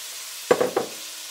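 Vegetables with turmeric and curry leaves hitting a hot pan, a sudden short burst of sizzling with a couple of quick stirring scrapes, otherwise a faint background hiss.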